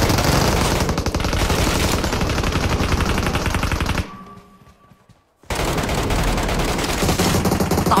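Loud, continuous automatic gunfire in the battle royale game Peace Elite, rapid dense bursts filling the scene, breaking off briefly into near quiet before the heavy firing resumes.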